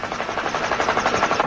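Helicopters in the animated Tintin film L'Île Noire make a loud, fast rotor chop, an even rapid pulsing thud that fills the short moment without talk.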